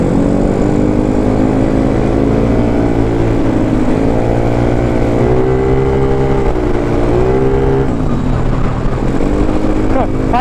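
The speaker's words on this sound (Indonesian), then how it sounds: "Varionnya ngebut." A Honda Vario motorcycle engine drones loudly and steadily at speed on a night ride, its pitch rising and falling with throttle changes, close-up with wind noise throughout.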